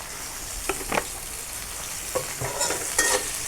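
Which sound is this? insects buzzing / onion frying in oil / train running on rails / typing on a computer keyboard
onion frying in oil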